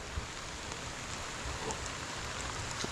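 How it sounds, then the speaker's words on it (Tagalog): Steady heavy rain pouring down, a dense continuous hiss with scattered drops hitting surfaces, no voices. "Ito tayo ng lakas ng ulan eh kanina kagara pa eh."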